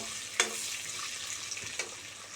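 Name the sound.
potatoes frying in leftover paneer oil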